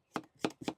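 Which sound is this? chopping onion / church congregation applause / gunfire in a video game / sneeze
chopping onion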